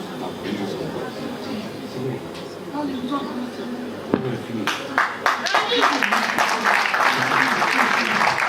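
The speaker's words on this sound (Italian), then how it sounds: "Fate un bel applauso Alessia" Theatre audience clapping during a live comedy show, building from scattered claps under ongoing talk into fuller, louder applause in the second half.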